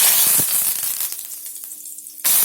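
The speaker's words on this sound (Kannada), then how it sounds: "ನಾವು ಕರಿಬೇವನ್ನ ಕೂಡ ಇದಕ್ಕೆ ಫ್ರೈ ಮಾಡ್ಕೊಳ್ಳೋಣ" Curry leaves hit hot oil while a cornflakes mixture snack is being made, giving a loud, crackling sizzle that gradually thins and quiets before a sudden fresh burst of sizzling at the end.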